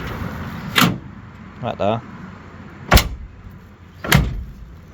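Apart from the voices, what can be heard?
car doors closing on a 1970 split bumper Camaro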